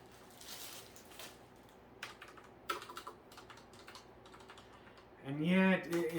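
Someone types on a Delux KS100 keyboard, fresh out of the box, producing quick irregular clicky keystrokes up close, with a person starting to talk over the final second or so.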